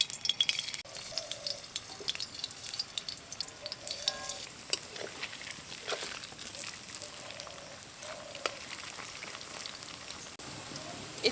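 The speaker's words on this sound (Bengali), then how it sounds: "এই বাকি ফুলকপিগুলো এইভাবে ব্যাটারের মধ্যে কোট করে তেলের মধ্যে দিয়ে দেব।" Batter-coated cauliflower florets frying in hot oil, a steady crackling sizzle with scattered pops and occasional stirring clinks, close and moderately quiet.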